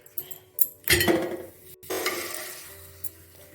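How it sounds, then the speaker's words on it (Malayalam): Pappadams frying in hot coconut oil in a pan, two sharp, loud bursts of sizzling that fade between them, with light clinks of a utensil against the pan. "അപ്പോൾ നമ്മളെ പപ്പടമൊക്കെ വറുക്കുകയാണ്"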